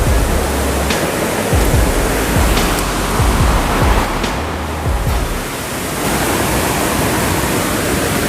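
Rushing water roars steadily near Curug Paniis waterfall in Pandeglang, heard from a steep slope on the approach, with a few dull low thumps close by and no talking.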